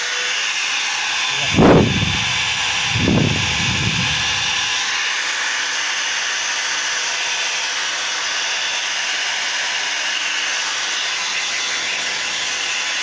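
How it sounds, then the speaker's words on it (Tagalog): A steady, loud blowing whoosh of a hair dryer that smells of burning runs throughout, with a couple of brief low thumps near the start. "Testing na natin yung hair dryer"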